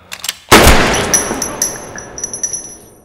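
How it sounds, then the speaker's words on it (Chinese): A single sharp gunshot cracks loudly in a Korean gangster film, followed by a ringing, decaying tail with faint scattered clicks and rustles as it fades. "开枪的正是赶过来的白狼"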